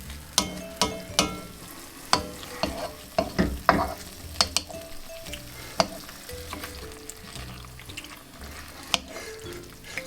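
Sweet and sour sauce poured into a sizzling chicken stir-fry, a loud steady hiss and crackle with scattered sharp spatters and utensil clinks, close up and with no voices.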